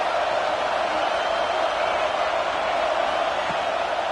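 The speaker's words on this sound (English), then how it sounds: "Decibels rising as the crowd gets behind this defense on third down." A dense, steady stadium crowd roar swells around a third-down defensive stand in a Madden football video game, sustained and loud throughout with no distinct voices or breaks.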